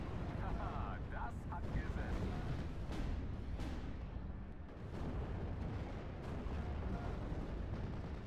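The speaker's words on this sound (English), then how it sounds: "my continuous artillery barrage is managing to kill even more infantry" A continuous artillery barrage from the World War II strategy game Steel Division: Normandy 44 rumbles as a dense stream of booming shell impacts and bursts. The explosions are faint and muffled in the background while someone narrates over them.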